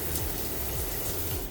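Water runs steadily from a tap in a cruise ship cabin bathroom, a continuous, fairly full rushing stream with no breaks.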